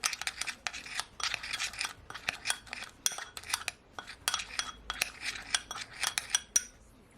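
Jerk chicken being mixed by hand or utensil with seasoning in a bowl, giving a close run of irregular clinking, scraping and rubbing knocks with no talking.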